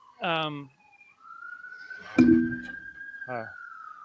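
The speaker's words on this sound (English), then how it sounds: "Sirens blaring." A steady, piercing siren tone holds for a few seconds between bursts of nearby talking, fairly loud and unwavering.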